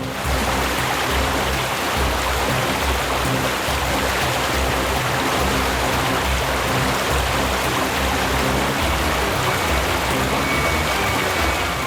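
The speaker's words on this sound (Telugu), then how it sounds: "చూసావా, వాటర్ ఫాల్స్కి వచ్చేసాం." Steady rushing water from a waterfall, a dense continuous roar filling the whole clip at constant loudness, with no voices.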